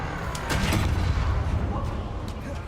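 Confringo fire-spell blasts in Hogwarts Legacy, a few booming bursts near the start under game music and a voice, then a steady rumble of combat noise.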